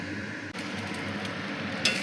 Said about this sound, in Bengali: চালটাকে ভেজে নিই।